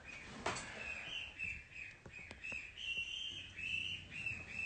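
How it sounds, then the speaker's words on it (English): Goslings, little baby geese on a farm, chirping in a continuous run of high peeping calls, fairly close, with a few sharp clicks or knocks in between. "we have goslings, little baby geese, and they also hear me talking, so they're chirping"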